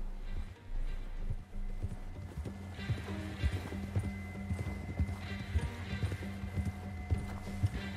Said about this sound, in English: The horse going on to gallop.